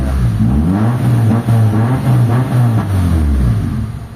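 A Mitsubishi Lancer with a rough, faltering idle runs close by, its engine holding a steady low drone with slight wavering throughout.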